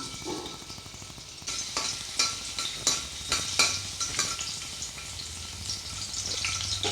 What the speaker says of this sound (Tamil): இப்போ எண்ணெய் சூடாயிடுச்சு கொஞ்சோண்டு பூண்டு வந்து சேர்த்துடலாம்